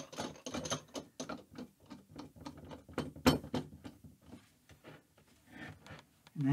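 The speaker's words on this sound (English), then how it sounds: "So what I'm going to do here is put this first clamp in the middle." A clamp is ratcheted onto the metal bar of a DIY under-desk flight sim mount for Honeycomb Alpha and Bravo controls, giving a fast run of close, crisp clicks and mechanical ticks that pause and resume, ending in a louder thump.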